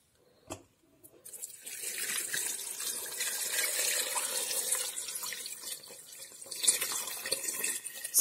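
Water runs steadily from a tap into a cooking pot holding artichokes and salt, a continuous splashing fill after a brief knock at the start, with no talking.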